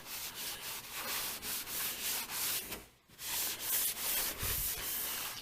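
A gray Scotch-Brite pad scrubs the body of a 1985 Chevy C-10 square body truck with close, rhythmic back-and-forth rubbing strokes, broken by one short pause midway.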